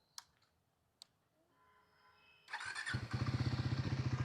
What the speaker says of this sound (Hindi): तो ये एग्जॉस्ट ऑन हो गया और एकदम स्मूथली ऑन हुआ है